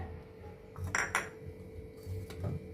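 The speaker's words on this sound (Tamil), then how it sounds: "தனியா வந்து ஒரு பவுல்ல எல்லாத்தையும் மிக்ஸ் பண்ணிக்கலாம்" Cocoa powder, wheat flour and other dry ingredients for a jaggery brownie are mixed in a bowl, giving a few light utensil clinks and scrapes against the bowl, faint and close, with no speech.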